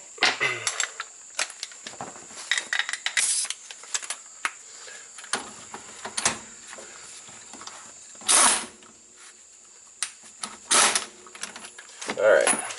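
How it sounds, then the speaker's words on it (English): An impact wrench fires several short, harsh bursts to start the bolts of a wheel bearing press kit on an Audi A4, with quieter clicks and handling noises between the bursts. "So let's just get this started real quick with an impact"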